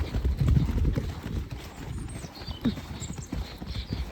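A horse cantering outdoors around a quarry, hooves clip-clopping in a steady rolling rhythm close by over rumbling ground noise, with a faint whinny-like tone and no speech in the moment.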